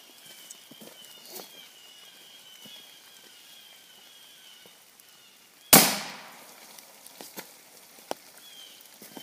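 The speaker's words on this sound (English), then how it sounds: "We're going to start out with 22 hollow point, and it's a subsonic load." A single sharp, loud gunshot from a subsonic .22 40-grain hollow point fired into water jugs, a sudden crack that decays quickly and stands out against quiet outdoor ambience with faint ticks.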